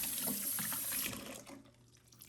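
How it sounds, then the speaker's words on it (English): Tap water runs over a tumbler being rinsed at a sink, a close, steady splashing flow that cuts off about halfway, leaving faint room sound. "Let's give it a great scrub, and we are going to rinse, and then we are going to pat dry"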